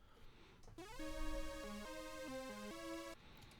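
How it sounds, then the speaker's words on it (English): A raw, unprocessed synthesizer saw wave plays a short melody of sustained buzzy notes, stepping up and down in pitch, clear and alone for about two seconds. "that's pretty much just a saw wave"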